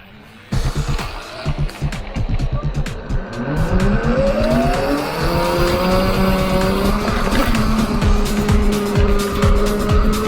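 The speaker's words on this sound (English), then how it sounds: "These little pit bikes are a lot of fun." A Kooz HP112E pit bike engine revs and climbs through rising pitches as it is ridden, loud and close after a sudden start, sustained throughout with no speech.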